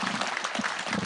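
Audience applause at a Nyeri County security forum, a short, dense patch of scattered clapping at moderate distance, fairly soft and even throughout.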